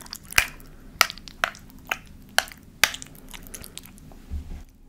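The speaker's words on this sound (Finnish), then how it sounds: "Täältä kuulostaa tsotsekin sekoittaminen." A spoon stirs vegan tzatziki in a glass bowl, close up and quiet, making a steady series of sharp clicks and scrapes about every half second.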